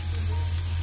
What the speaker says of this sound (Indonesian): Panasin, tumis sebentar sampai harum.